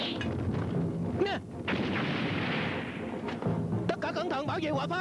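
Cannon artillery fire in a battle scene from a historical war drama, with several booming blasts and rumbling impacts spread through the scene, mixed with shouting and other battle noise.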